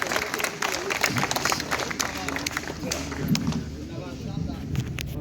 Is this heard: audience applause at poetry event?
yes